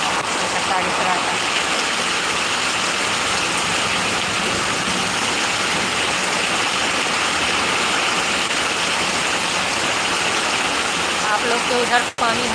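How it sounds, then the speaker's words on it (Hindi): Heavy rain pours down in Rishra, Kolkata, West Bengal, a steady, dense broadband roar that stays loud and unbroken throughout, with a brief sharp click near the end. "सभी लोग देखिए पानी कितना पड़ रहा है बंगाल में।"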